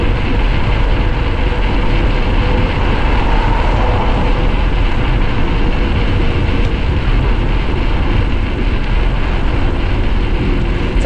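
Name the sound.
wind noise while mountain biking downhill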